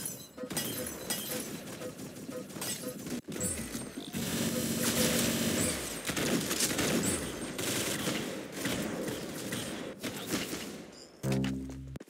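Rapid bursts of video game gunfire fill most of the clip, dense and loud with crashing, shattering impacts mixed in and a brief tonal effect near the end.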